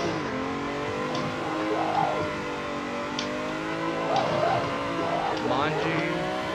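A BMW E30 engine revving hard while drifting in the video game Assetto Corsa, a steady high-pitched wail rising and falling with throttle and tire squeal, under someone talking throughout.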